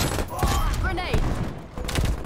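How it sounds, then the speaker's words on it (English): Grenade blast in the shooter game Call of Duty: Black Ops Cold War, a heavy boom amid a burst of gunfire, with voices and radio chatter mixed in. "Grenade."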